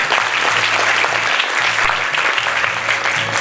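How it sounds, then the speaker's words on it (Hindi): Sustained audience applause at a quiz competition event at Allama Iqbal Open University, dense and steady throughout with a faint low hum beneath. "भरपूर ताली इसके लिए"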